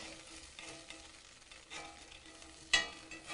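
Beef stir fry sizzling in hot oil in a pan, a quiet, steady crackle with one sharp spatter near the end.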